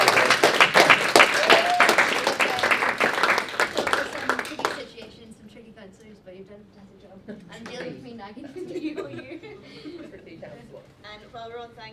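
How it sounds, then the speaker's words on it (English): A student council audience claps to thank the outgoing meeting chair. For about five seconds the applause is dense and loud, then it cuts off and chatter and a voice follow. "can we get a massive round of applause for Gillian for chairing the SRCs this year?"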